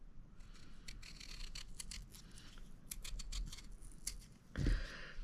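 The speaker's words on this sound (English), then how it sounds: "take your blade and just kind of cut away a little bit at the sides" Small blade cutting away the sides of an Idaho Russet potato to shape a stem stamp: a run of fine, quick scraping and snipping strokes at moderate level, ending in a louder thump near the close, no voice.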